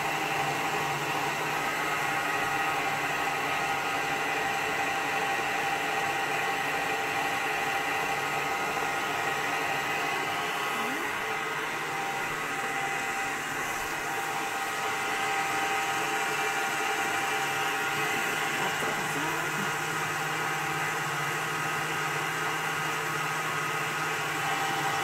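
An electric mixer whirs continuously at a steady pitch, a dense motor hum running unbroken from start to finish.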